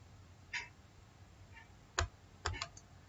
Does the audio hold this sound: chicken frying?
no